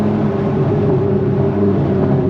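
A VW Golf MK7 with an RS3 exhaust conversion and the back box deleted cruises in 4th gear at about 40 mph and 3,000 rpm, producing a steady, loud, droning exhaust hum that holds constant throughout.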